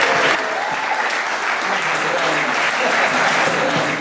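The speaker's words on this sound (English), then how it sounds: "Please give a big round of applause for the president of the Elvis Presley fan club" Loud, sustained applause from an audience welcoming Todd Slaughter, president of the Elvis Presley fan club, at a fan club event; dense, even clapping with a few sharper individual claps throughout.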